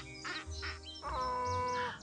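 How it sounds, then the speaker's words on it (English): Honking cries of a goose in a Nancy Drew game set in Seattle, Washington: a few short nasal honks followed by a longer drawn-out call, fairly faint and alone. "Maybe a Canadian goose, since this is Seattle, Washington."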